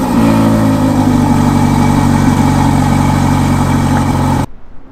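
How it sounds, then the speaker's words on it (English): A Ferrari engine starts up and revs, a loud, close, sustained roar with rich harmonic tone that holds steady before cutting off abruptly near the end, leaving a faint trailing rumble. "let's listen to this Ferrari real quick. You don't get to hear a Ferrari start up that often."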